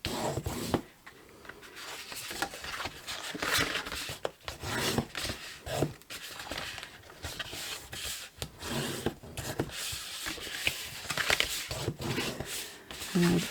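Scored card for a gift box is burnished with repeated rubbing strokes, a close, dry scraping that comes in uneven bursts with short pauses and no talk.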